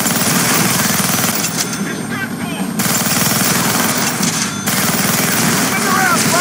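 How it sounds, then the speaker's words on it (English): Minigun fired from a helicopter in the Deadpool video game, a dense, loud, continuous rattle of rapid fire with brief pauses, with voices speaking over it. "Gonna need both hands to shoot that minigun."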